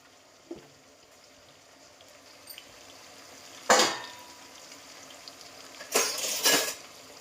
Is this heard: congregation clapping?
no